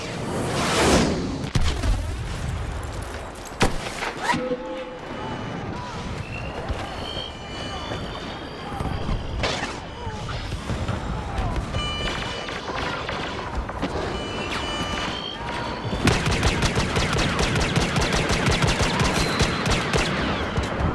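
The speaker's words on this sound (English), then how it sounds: "Like blaster fire? We've got stormtroopers in the area." Star Wars Battlefront Walker Assault battle with rapid blaster fire, dense bursts of shots amid explosions and whooshing effects, growing busier and louder toward the end.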